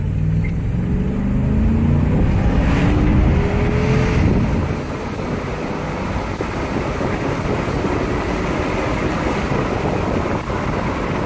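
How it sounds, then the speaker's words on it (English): A Dodge Durango fitted with an aftermarket intake accelerates hard from 0 to 60, its engine roaring loudly and rising in pitch for about four seconds, then settling into a steady lower drone with heavy wind noise. "I kind of show you like a before and after with the intake, see what it sounds like and what the power gains are maybe"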